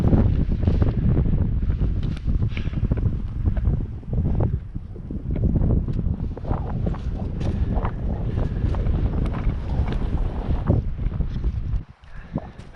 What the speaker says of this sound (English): Just as we're going to get going, the wind picks up a shitstorm.